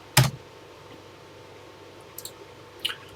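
A few keystrokes on a Texas Instruments computer keyboard while entering a TI BASIC program: one sharp close click, then a couple of lighter taps a few seconds later, isolated in a quiet room.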